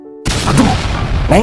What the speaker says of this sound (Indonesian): terdengar suara ledakan di atap rumah